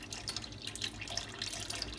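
Water runs steadily into the pipe of a Kärcher K4 Power Control pressure washer, giving a close, continuous splashing and trickling rush with no speech.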